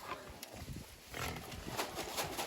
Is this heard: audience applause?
no